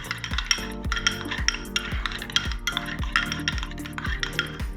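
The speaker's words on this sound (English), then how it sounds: "Give it a nice little stir." A spoon stirs a tablespoon of sriracha sauce into a beef hoisin mixture, giving a steady run of repeated scraping strokes against the pot or bowl with faint clinks, close and clear with no talking.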